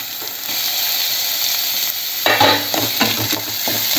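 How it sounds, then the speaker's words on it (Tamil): Capsicum and paneer frying in a hot pan, a close, loud sizzle that swells when the vegetables go in, then repeated stirring scrapes and clatters over the continuous hiss. "இப்போ நம்ம வந்து கேப்சிகம் கொடமிளகா சேர்த்துக்க போகிறோம்."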